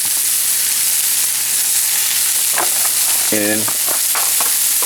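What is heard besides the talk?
garlic, mushrooms and herbs sizzling in pan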